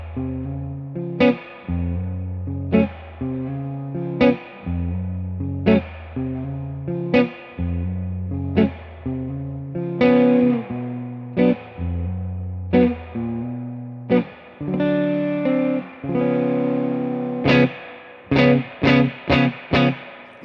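An electric guitar plays a repeating riff of plucked notes and chords through a Supro Delegate Custom amp with reverb halfway up, each note ringing out with a reverb tail, ending in quick strums.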